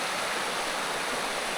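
A California creek rushes in a dense, steady broadband wash, close and loud, with no voices over it.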